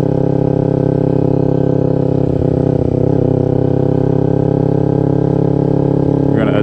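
A motorcycle engine runs steadily at close range with a loud, sustained drone while being ridden, its tone shifting slightly midway with no talking.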